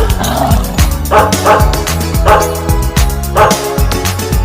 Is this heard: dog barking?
yes